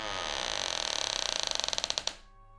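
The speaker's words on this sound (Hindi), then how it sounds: "दरवाज़ा अजीब सी आवाज़ के साथ खुला" A door creaks slowly open in a steady run of dry, ratcheting creaks that quicken and end in a final click. The creaks sound close and clear, with nothing else audible.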